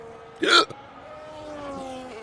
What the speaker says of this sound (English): I got hiccups now